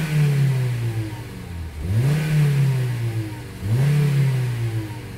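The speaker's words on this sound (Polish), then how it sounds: "Silnik niech chwilkę pochodzi jeszcze" An LPG-fitted car engine with STAG gas injectors runs close by, its pitch rising and falling as it is revved twice between steady idling.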